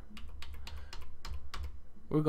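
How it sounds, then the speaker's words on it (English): Several quick taps on the arrow keys of a computer keyboard, close and evenly spaced, followed by the start of a voice speaking. "tap that arrow key a couple times"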